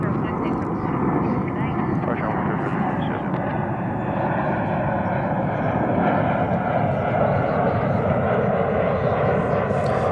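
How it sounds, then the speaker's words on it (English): Airliner arriving on a flight from Madrid at Dallas Fort Worth Airport in late afternoon, a loud continuous jet engine roar close by, steady throughout. "There in the late afternoon sunlight is the flight that came in from Madrid"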